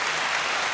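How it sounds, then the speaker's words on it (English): Applause sound effect played during a podcast, a short burst of dense crowd clapping at steady loudness, heard alone. "which one's the applause?"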